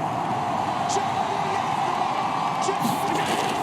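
A loud home crowd roars at a Bills-Giants football game, a dense, steady wall of noise with scattered whoops and yells, heard under a commentator's voice.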